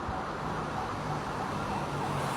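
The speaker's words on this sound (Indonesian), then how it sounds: "Itu ada ambulans jalan, dia pun enak itu jalannya" An ambulance siren wails through dense traffic noise in Malaysia, steady and moderately loud amid the rumble of passing vehicles.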